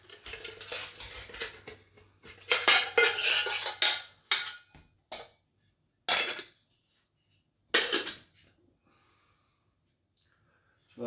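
Lightweight camping cooking pot and lids being handled, with metallic clatters and scrapes in bursts, busier early then a few separate clinks, close and fairly loud.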